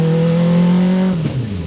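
Turbocharged, Hayabusa-swapped 300 HP Smart car, its engine holding a loud, close, steady drone before the pitch drops sharply as it shifts into the next gear and settles lower.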